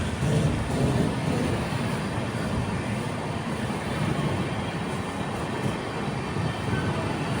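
Amrit Bharat Express running between Kozhikode and Tirur, heard from inside a sleeper class coach as a continuous low rumble and rolling wheel noise at steady volume, without voices.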